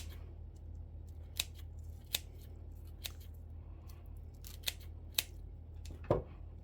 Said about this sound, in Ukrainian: Ось так от ножицями розрізаємо панцир.